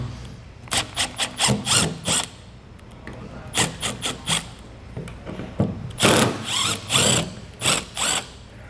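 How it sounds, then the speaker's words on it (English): Two screws are backed out of a trailer light with a power driver, giving repeated short whirring bursts in uneven groups with brief pauses between them, close and moderately loud with no talking. "Next, we're gonna take out these two screws."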